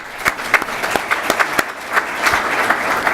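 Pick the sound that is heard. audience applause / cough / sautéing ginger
audience applause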